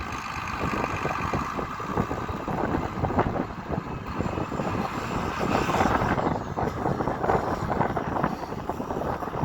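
A tractor engine with a backup spreader hitched is revved while its throttle and clutch are tested, giving a loud, steady rumbling roar that swells and eases slightly, with some wind buffeting on the microphone.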